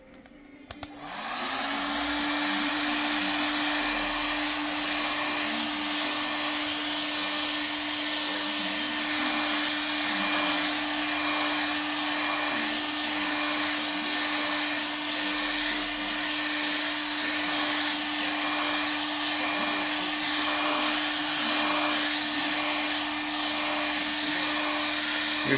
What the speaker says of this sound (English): You shouldn't linger too long in one spot with the heat gun